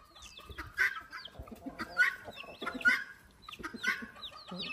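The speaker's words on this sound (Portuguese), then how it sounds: "A galinha já tá curiosa aqui." Chickens clucking on a small farm, a steady run of short repeated clucks and chirpy calls from several birds close by, with no talking.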